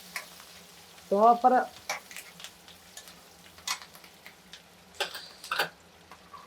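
Green chillies, ginger pieces and cashews fry in a pan with a soft, quiet crackle and sparse stirring clicks, while a voice speaks briefly.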